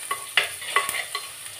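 Onions with salt sautéing in a pan for fish curry, a light sizzle punctuated by three or four rhythmic scraping stirs and a small clack, close and quiet, no talk.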